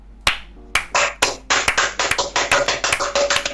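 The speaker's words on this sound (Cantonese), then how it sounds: "俾啲掌聲先。" A small group claps in a sharp, uneven burst that quickly grows into steady, close applause for a few seconds, with no talking over it.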